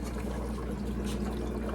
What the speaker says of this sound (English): one of the aerators actually bubbling